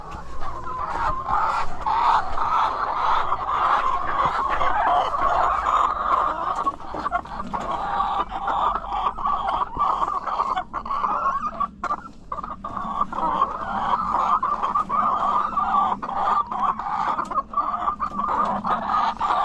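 A crowd of laying hens clucks and murmurs steadily inside a coop, a dense continuous chorus of close, overlapping calls with no talking.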